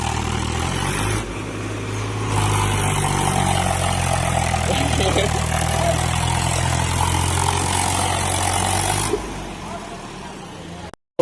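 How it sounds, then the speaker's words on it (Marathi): A tractor loaded with sugarcane and stuck in mud rumbles with a low, steady engine drone that swells louder for several seconds as it strains, then eases back, with voices faintly present. "आमच्या इथं ट्रॅक्टर फसलेलं आहे."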